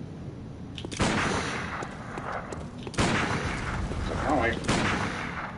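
Sniper rifle shots in the video game Bloodborne, three heavy booming reports spaced a couple of seconds apart, each ringing out with a long echoing tail, while someone speaks briefly.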